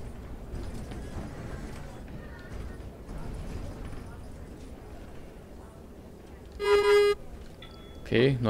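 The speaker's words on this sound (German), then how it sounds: "neuer Hupensound, den haben wir auch" A short, bright synthetic bus horn honk in the bus simulator game OMSI 2 sounds near the end of a stretch of background chatter and clatter, followed by another electronic tone.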